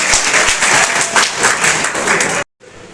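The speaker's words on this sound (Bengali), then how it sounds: "দিশার জন্য হাত তালিও একটা দিই" An audience claps for a student named Disha in a government ITI classroom in Bankura, a steady burst of applause lasting a couple of seconds that cuts off abruptly, then faint room tone.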